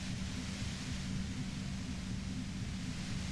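Steady white-noise hiss blended with a low, rolling storm rumble from the game Disco Elysium, a constant dense wash at moderate level with no voices.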